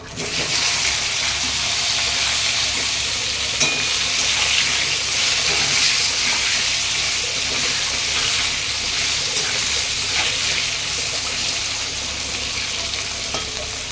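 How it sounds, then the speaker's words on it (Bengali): Brinjal, potato and taro pieces fry in hot oil seasoned with black cumin, the same oil used for the fish just before, giving a steady, loud, continuous sizzle with faint clinks of stirring. "আর এই বেগুন, আলু আর কাটি কচু দিয়ে দেবো।"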